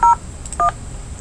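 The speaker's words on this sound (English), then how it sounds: "You can dial *97 is the voicemail." Telephone keypad tones on an Asterisk FreePBX phone system: two clear, loud DTMF beeps in quick succession, each brief and separated by a short pause, with nothing else heard.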